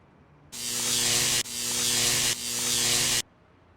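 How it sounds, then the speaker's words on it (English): A blacksmith's welder in a video game buzzes in three loud, steady electric bursts with short breaks between them, close and harsh, then cuts off. "I could use his welder"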